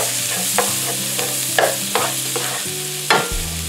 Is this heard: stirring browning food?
yes